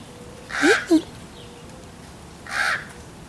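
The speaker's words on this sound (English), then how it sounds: "Raven, raven, raven, raven." A raven gives two loud, harsh croaking calls about two seconds apart, the first followed by a short clipped note, standing out clearly against a quiet outdoor background.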